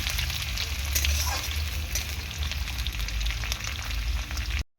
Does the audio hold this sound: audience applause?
no